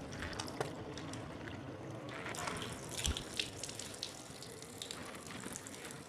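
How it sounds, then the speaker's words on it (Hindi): Water poured by hand onto the head so it runs down over the face during wudu ablution, a soft continuous splashing and trickling flow with a few small drips, heard close and fairly quiet. "पानी हमारा सारे चेहरे तक चला गया।"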